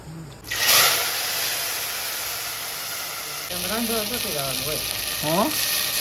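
Cumin seeds and garlic sizzle steadily in hot oil in a home kitchen, with a brief loud crackle near the start and voices talking over the frying.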